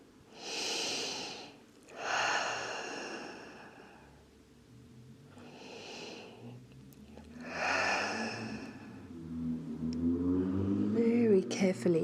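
Slow, deep breaths during a yin yoga pose, with long airy inhales and exhales heard up close in separate bursts, followed by a softer stretch of breathing and low voiced sounds toward the end.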